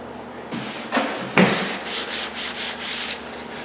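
A damp sponge rubbing along a drywall bullnose corner bead, giving soft repeated scrubbing strokes, close and moderately loud, with no talking.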